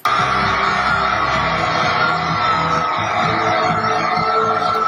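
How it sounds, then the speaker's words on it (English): A huge arena crowd roars and yells without pause at the Miss Universe 2015 winner announcement, a dense, loud, steady wash of cheering and whooping. "The crowd is going even more crazy."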